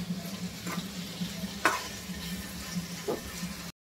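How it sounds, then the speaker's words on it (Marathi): Chillies and onion sauté in an oil pan for chilli paneer, giving a steady moderate sizzle with a low hum beneath, marked by a few sharp scraping stir strokes near the middle and toward the end. "त्याला चांगलं परतून घेऊया"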